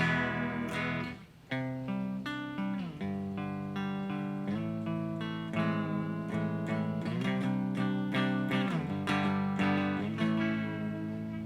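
Clean electric guitar with no reverb or distortion plays a steady sequence of plucked notes and chords, clear and close, each attack ringing out briefly before the next.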